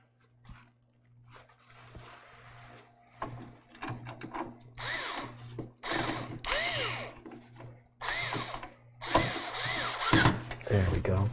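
A power screwdriver drives screws into a PC fan, with several whirring bursts of the motor, each rising and stopping in turn, loud and close.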